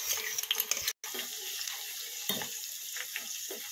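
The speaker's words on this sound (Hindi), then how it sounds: "ये देखिए ऑयल में कितने अच्छे से उबाल आ रहा है" Grated onion and onion juice fry in hot oil in a home kitchen, giving a steady, dense sizzle and crackle throughout with a brief dropout near the start, no speech.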